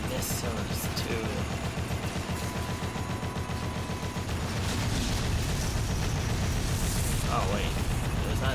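Missiles and gunfire in Dead Rising's finale battle: a dense, roaring barrage of rapid bursts and explosions, loud and continuous, growing heavier partway through, with a voice speaking over it.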